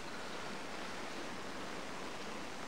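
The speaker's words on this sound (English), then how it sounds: "The rain's falling a bit heavier now." Steady, heavy rain falls on a river, a dense continuous hiss with no breaks, close and fairly loud.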